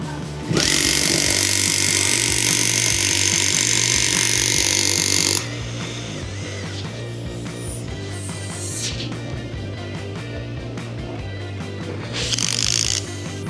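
A power drill fitted with a Diablo bit bores a 3/8-inch hole overhead indoors, a loud, steady high whine for about five seconds, then a lower running hum with brief bursts of grinding and a final short surge.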